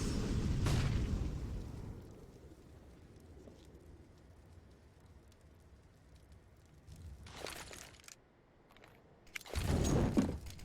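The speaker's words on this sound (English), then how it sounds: "Molotovs and smokes go out." Molotovs and smoke grenades go off in a Counter-Strike match on Vertigo, with a loud burst at the start, a quieter stretch, then two more sharp hissing pops near the end.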